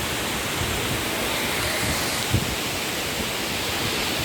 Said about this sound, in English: we came to the tremendous waterfall of Kurmanga